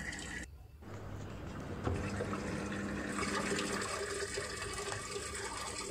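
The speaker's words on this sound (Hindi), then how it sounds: "फिर सेकेंड बार ये पानी लेने लगा है" Water rushes steadily into a Godrej 6.2 kg top-load fully automatic washing machine, a continuous hissing flow with gurgling, fairly close and loud throughout.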